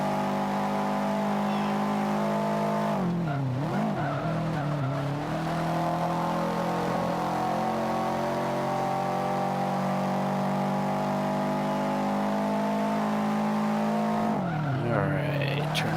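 A race car lapping a track in Forza Motorsport 5, an all-wheel-drive C-class car on warm tires, holds a loud, steady engine drone, briefly broken twice by shifting or tire squeal through corners.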